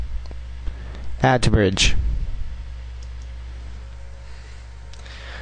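A computer mouse gives a few small, close clicks, including a right-click on a network bridge setting, and someone briefly speaks over them.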